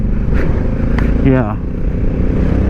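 A Honda Africa Twin DCT motorcycle runs steadily close by, its engine drone constant throughout with a brief rising rev partway, under a man's short spoken word.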